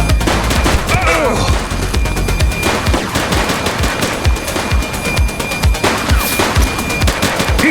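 Rapid automatic gunfire in the police game The Precinct, loud bursts of close shots repeating through the whole stretch, with a brief voice under the firing.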